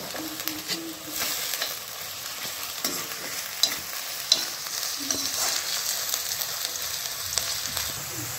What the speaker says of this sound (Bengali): আমি প্রথমে গাজরটা দিলাম, তাহলে একটু বেশি ভাজা হবে, গাজরটা একটু নরমও হয়ে যাবে